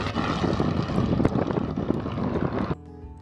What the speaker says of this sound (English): the Meyers 200 is still considered the fastest, strongest, most reliable,